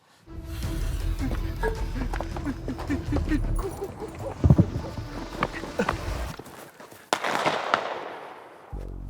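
A firecracker goes off among people chatting outdoors, giving a cluster of sharp crackling pops followed by one louder bang near the end; voices talk throughout.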